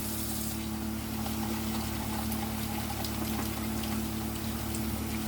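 Running water rinsing a razor and shave cup in a sink, a steady, even splashing flow with a constant low hum beneath it, moderately quiet and uninterrupted.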